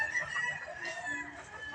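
Faint clucking from a fighting rooster wounded by a gaff blade in a cockfight, soft and close against a low background hum.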